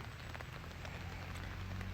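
Steady rain at Huai Tueng Thao in Chiang Mai during a fishing outing, a faint even wash of drops with scattered light patters, no voices.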